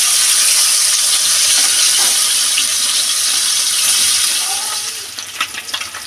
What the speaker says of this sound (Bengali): মাছ বসিয়ে দিয়েছি ভাজার জন্যে, মাছটা ভেজে নেব।